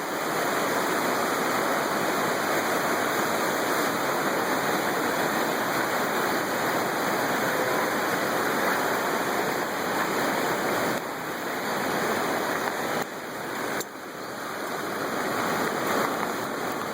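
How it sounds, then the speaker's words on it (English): Floodwater of the Fox River in its April 2013 flood rushes in a loud, steady roar, a dense unbroken wash of moving water that dips briefly near the end. "Marvel as the Fox River spreads its wings and starts to cover the landscape."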